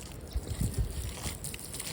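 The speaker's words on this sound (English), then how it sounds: "I'm just incorporating some water in it to keep it from blowing." Water being poured into a dry mix outdoors on a windy day, a soft uneven trickle and splash with low rumbling gusts underneath, close and quiet.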